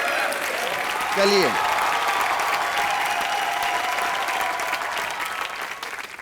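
Studio audience at a comedy show breaks into loud, sustained applause for film director Ram Gopal Varma. A brief spoken word cuts in early, and the clapping fades gradually toward the end.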